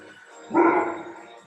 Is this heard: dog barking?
yes